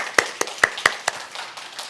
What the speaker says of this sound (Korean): 우리 하나님께 영광의 박수 올려드릴까요?